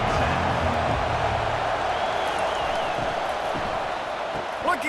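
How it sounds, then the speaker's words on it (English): A loud, continuous stadium crowd roar in College Football 25 during an Iowa at Ohio State game, a dense, steady wall of noise with a commentator talking over it. "Listen to this crowd just shaking hitting the girders of this place, trying to help their defense."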